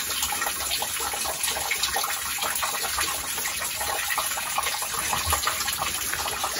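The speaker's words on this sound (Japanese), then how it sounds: "滝かな？ 滝。" Rushing water pours continuously at a waterfall used for ascetic training beside an abandoned shrine, a dense, even roar of falling water with no pauses, heard up close.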